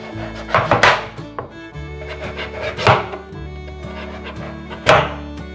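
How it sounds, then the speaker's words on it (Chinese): A knife cuts kabocha pumpkin into small pieces on a board, landing a few sharp, irregular chops and thuds, close and fairly loud. "把栗子南瓜切小块"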